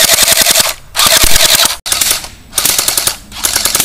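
TSD M14 airsoft AEG rifle firing long rapid full-auto bursts, a loud close mechanical rattle with short gaps between strings.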